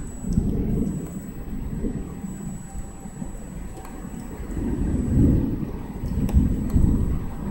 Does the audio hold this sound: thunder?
yes